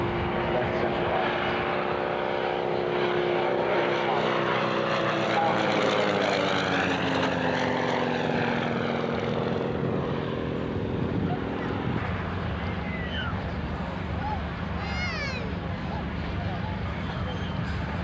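A Yak 50 propeller aircraft flies past at an airshow, its engine drone rising and shifting in pitch as it passes, fairly distant and steady, with a brief swooping tone near the end.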